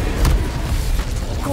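The Incendio fire spell is cast in the video game Hogwarts Legacy, releasing a sudden low boom early on that trails into a rough, rumbling crackle under busy game noise.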